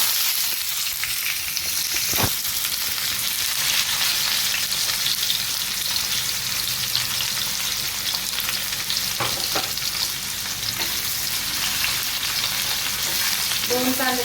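Onion frying on a tawa with dried shrimp (sukka jawala), a loud continuous sizzle that runs throughout, with occasional scraping and stirring clicks.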